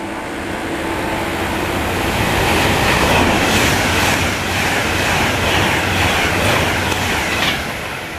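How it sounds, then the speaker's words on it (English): A Virgin Trains Pendolino tilting express passes through Bletchley station, a loud rushing roar of wheels and air close by, swelling and holding steady with rhythmic rail clatter. "Passing through is another Virgin Trains Pendolino."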